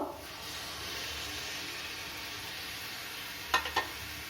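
Grated raw-ripe mango tipped into hot frying spice paste, a continuous close sizzle and hiss with two short clatters near the end, no voices.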